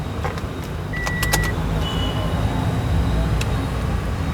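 Electric folding side mirrors on a 2021 Toyota Innova Crysta 2.4 GX automatic facelift whir briefly in short motor bursts, faint beneath a steady background hum.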